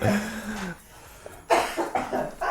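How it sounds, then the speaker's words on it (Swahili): A person in a radio studio coughs several times, short harsh bursts at close range after a brief voiced sound, set against a quiet room. "Mpaka na kikohozi kwa kweli."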